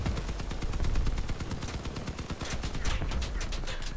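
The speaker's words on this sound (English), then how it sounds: "Looks like we're being shot at a little bit." Rapid gunfire rattles in the vehicle-combat video game Crossout, dense bursts of shots in a near-continuous stream that steady briefly, then pick up again in the last second or so.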